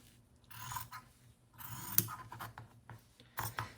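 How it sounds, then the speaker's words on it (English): Scissors cut paper for a junk journal in a few short, close snipping and rasping bursts, quiet and intermittent, with no talking. "So back out with the scissors"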